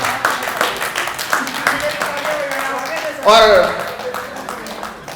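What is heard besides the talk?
audience clapping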